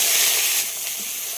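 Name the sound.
cauliflower frying in oil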